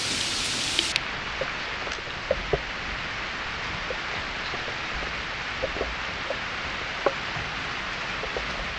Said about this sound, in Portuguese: Chove no costão rochoso, mas aqui a própria chuva chega a ser letal.